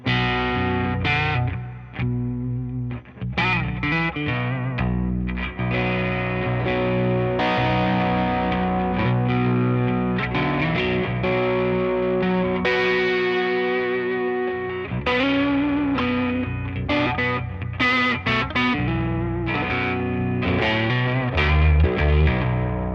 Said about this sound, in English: the last tuning I want to show you is Open B